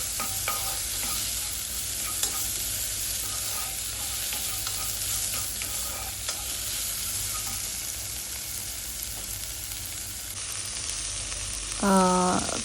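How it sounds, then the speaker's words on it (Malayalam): Chopped bitter gourd sautés in a pan, giving a continuous crackling sizzle broken by repeated scrapes and clicks of stirring. A short tonal sound rises near the end. "പിന്നെ നമ്മൾ മുറിച്ച് വെച്ച് പാവയ്ക്ക അതിലേക്കിടും എന്നിട്ട് അത് ഒന്ന് സോഫ്റ്റ് ആകുന്നവരെ സോട്ട് ചെയ്യുക"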